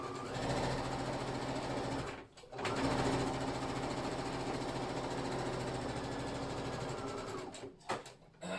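A sewing machine stitches a jeans fly seam in steady, fast, even bursts, close and clear, with two short pauses between runs and no talking.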